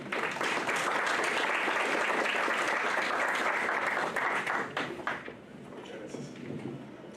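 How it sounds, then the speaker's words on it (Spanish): Audience applause welcoming a speaker at an ethics forum of the Callao Superior Court of Justice in Peru, sustained steady clapping from a hall that fades out near the end, leaving a quieter room. "Vamos a recibirlo con un fuerte aplauso."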